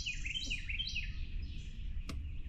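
Several birds chirp and trill outdoors on a morning in the wild, their bright calls overlapping continuously and fairly close over a low steady background rumble, with one sharp brief sound near the end.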